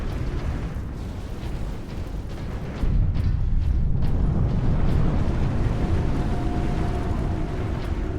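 A gigantic orbital cannon fires in the Warhammer 40k Space Marine video game, a deep rumbling roar that swells sharply partway through and keeps thundering to the end.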